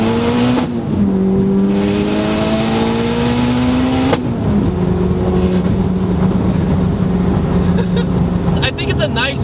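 An 820 hp Mitsubishi Evo X accelerating hard from inside the car, the engine note climbing steadily through two pulls with a shift between them, loud and close, with a brief squeal near the end.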